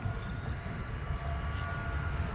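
Small E-flite UMX Pitts S-1S RC airplane on 3S power flying in wind, a steady electric motor drone mixed with heavy wind rumble, no voices.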